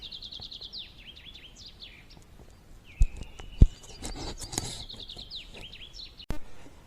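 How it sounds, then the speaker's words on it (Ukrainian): Birds chirping and trilling in spring woods, repeated bright calls from a few birds, with scattered footsteps and rustles nearby. "птиці щебечуть."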